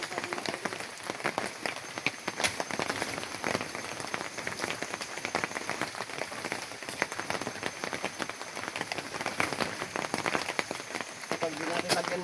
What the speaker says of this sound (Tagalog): Ulan na kami dito.